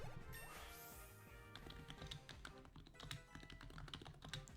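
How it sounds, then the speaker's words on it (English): Computer keyboard keys clack in quick, irregular bursts, close to a nearby microphone, with faint game sounds in the background and no talking. "Sorry if you hear me clacking on my keyboard."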